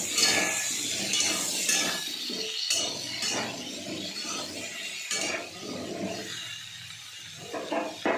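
Pumpkin pieces fry and get stirred in a pan with turmeric, salt and cumin powder: a spatula scrapes and clinks against the pan over a steady, soft sizzle, with repeated stirring strokes throughout.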